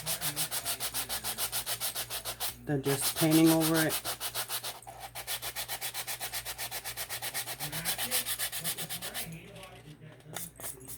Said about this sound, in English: I'm gonna sand off the name